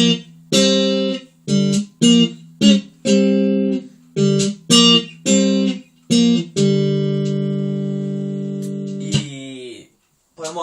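Electric guitar played alone, picking out a riff in a steady series of short chord stabs before a final sustained chord rings out and fades.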